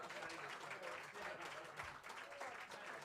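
An audience claps and cheers at a live orchestral gig, a dense continuous wash of applause filling the room, with a voice speaking faintly over it.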